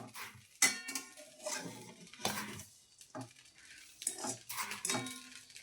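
Sugar going straight into raw milk in a pan for sweet milk squares, heard as scraping, stirring and clinking of a utensil against the metal pan in irregular bursts, close and fairly quiet.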